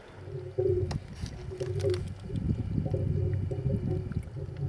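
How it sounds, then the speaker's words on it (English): Salty hot spring water at about 140 degrees gurgles and bubbles up through the ground at Wilbur Hot Springs, irregular wet pops and sloshes close by over a low murmuring rumble. "You can hear the water down there every few minutes bubbling up."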